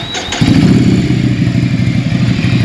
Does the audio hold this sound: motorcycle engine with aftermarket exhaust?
yes